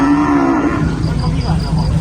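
Cattle moo loudly and repeatedly at a Vietnamese livestock market where cows and buffalo are being loaded onto trucks, one long low call followed by shorter overlapping bellows amid the market din.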